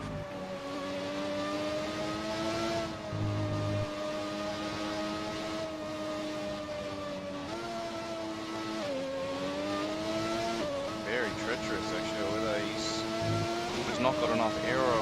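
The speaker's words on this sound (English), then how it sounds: "we listen to the V12 sound of the Ferrari through the S's" A Ferrari V12 in a racing video game holds a steady, sustained engine drone through a run of esses, shifting pitch with a few gearchanges and a brief high whine near the end.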